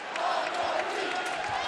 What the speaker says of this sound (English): And the crowd coming alive here.